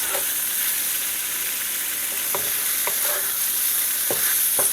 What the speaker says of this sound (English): Stir it around and coat. Try to get some of that oil in there coated.